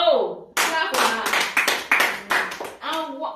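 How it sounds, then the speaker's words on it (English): A group of children clap their hands together in a dense, lively burst of applause lasting several seconds, close and loud, with a few young voices calling out over the clapping. "Oh, clap for that."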